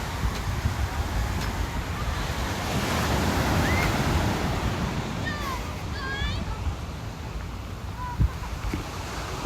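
Surf rolls onto Humarock Beach in Massachusetts in a steady, close wash of breaking waves with wind buffeting the microphone, faint bird calls and a few voices in the background.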